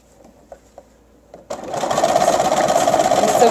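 A sewing machine stitching a scarf into a skirt starts up after a few soft handling taps, then runs in a loud, steady, fast whir close by.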